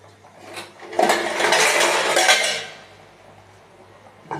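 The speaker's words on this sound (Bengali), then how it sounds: "আমি ঢাকনাটা দিয়ে দিই।" A lid goes onto a cooking pot of egg curry with freshly added hot water, a loud metallic clatter and rattle that rings briefly, then settles into a faint hum before a last small knock.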